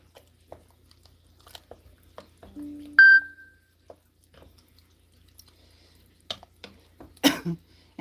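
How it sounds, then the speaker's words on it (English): A phone notification chime rings once in a quiet home kitchen, a short bright tonal ping, followed by faint handling clicks and kitchen noises. "And that sound you heard, that's my notifications."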